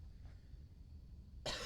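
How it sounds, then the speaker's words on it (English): A single sharp, loud cough bursts out near the end after quiet background hum, close to the microphone. "Excuse me, I got a cough."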